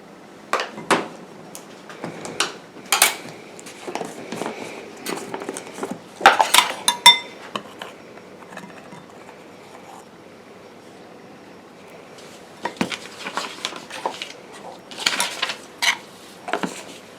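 A spoon stirring a cosmetic paste of white clay and chalk (blanc de Meudon) in a bowl, giving bursts of clinking and scraping taps in two busy spells separated by a quieter pause.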